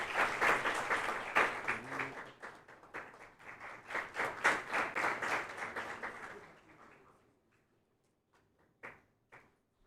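An audience at a stage event celebrating Swami Kuvalayananda's birth anniversary claps in a warm, dense burst that gradually thins and dies away, leaving a few scattered late claps.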